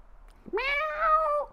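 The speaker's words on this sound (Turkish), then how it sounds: "Ha bir de kedim var. Kedim de var." A single cat meows once, a clear, close, drawn-out call lasting about a second against a quiet background.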